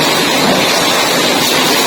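Soy milk is doused over curd during tofu making, a continuous broad splashing rush of pouring liquid, loud and close, steady for the whole moment without speech.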